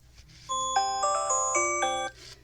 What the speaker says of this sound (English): So I'm just going to let that timer run out here.